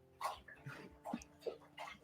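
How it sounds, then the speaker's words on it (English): A dog barks and yips in the background during an online call, giving a string of five or six faint, evenly spaced barks with nobody talking over them. "I can hardly hear you because of the goddamn dog."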